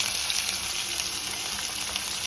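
Onions, green chillies and bay leaves fry in hot oil in a home kitchen, giving a steady, close, dense sizzle that runs unbroken and fairly loud with no voices.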